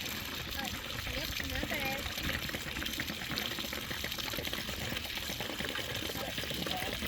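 Water draining from a Culligan whole home filter, a steady broadband rush and trickle running the whole time, with voices talking faintly underneath.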